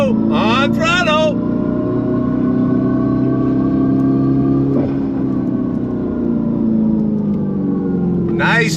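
A 2025 Dodge Charger Daytona Scat Pack accelerates on throttle, a steady loud drone with rising harmonic tones holding through the whole stretch, with brief bursts of voice near the start and end.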